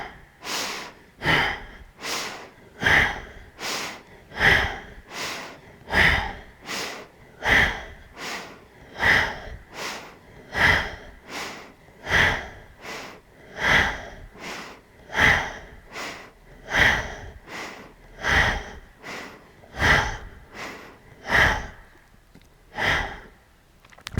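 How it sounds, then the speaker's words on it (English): Steady Ujjayi yoga breathing, a soft ocean-like rasp at the back of the throat drawn through the nose, repeating in even inhale-exhale cycles about every second and a half, close and alone without talk. "Sound in the back of the throat. Still Ujjayi breath."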